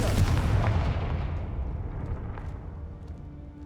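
A Confringo fire spell explodes in Hogwarts Legacy with a loud, booming blast that rumbles heavily in the low end, then slowly fades over several seconds into a dull roar, with no talk.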